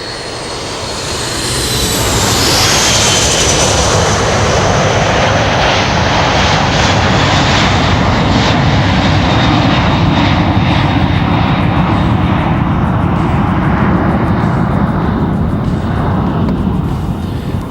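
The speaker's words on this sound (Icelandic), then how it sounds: "Fyrsta flugvélin sem sýnir 4 hreyfla þota af gerðinni British Aerospace 146 frá drottningardeild breska flughersins." A British Aerospace 146 four-engine jet of the Royal Air Force Queen's Flight passes over an air show, its roar building quickly and then holding as a loud, steady whine with a shifting pitch as it flies by.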